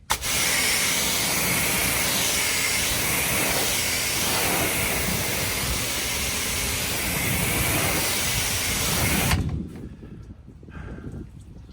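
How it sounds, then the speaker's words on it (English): Sprayer spraying sealant as a continuous, loud, even hiss for about nine seconds, cutting off abruptly and leaving a faint low background noise with no voices. "I had to adjust the sprayer"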